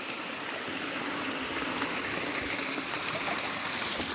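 Water flows steadily through rice paddy fields, a continuous broad rushing and trickling wash that stays loud and even throughout, close by, with no voices over it.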